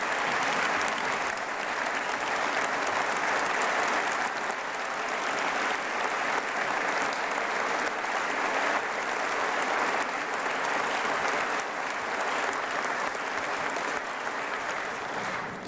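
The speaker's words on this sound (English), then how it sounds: "please give Kathy and all these great people a tremendous round of applause." A large crowd claps loudly and continuously at a State of the State address, the dense patter of many hands holding steady with no voices on top.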